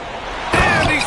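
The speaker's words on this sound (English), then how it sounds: "And he slams." A player slams home a dunk during an NBA Finals game in NBA 2K26, a sharp rim-rattling impact with crowd and arena noise, while a broadcast commentator talks over it.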